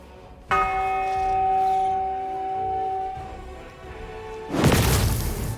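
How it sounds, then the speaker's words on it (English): A bell pressed in the video game Pathfinder: Wrath of the Righteous rings out with a clear sustained metallic tone that slowly decays, then a burst of whooshing noise follows near the end. "And then press the bell."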